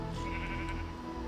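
Sheep bleating in Minecraft (Tolkiencraft modpack), a steady, close game-sound bleat filling the short moment with no talk over it.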